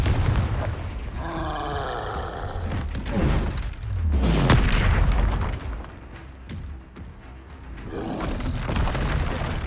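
Spell explosions from Expulso and Confringo in Hogwarts Legacy boom and crackle through game music, with a few heavy blasts and rolling rumbles spread over several seconds, loud and close.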